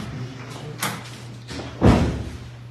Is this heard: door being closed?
yes